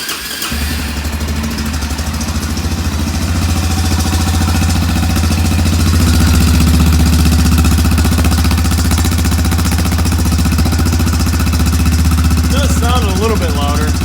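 An Arctic Cat 400 ATV with holes drilled in its muffler idles and then holds a steady, loud, rumbling engine note close by, with a brief change in pitch near the end.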